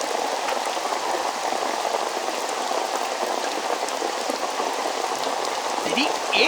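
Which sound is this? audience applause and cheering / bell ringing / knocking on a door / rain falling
rain falling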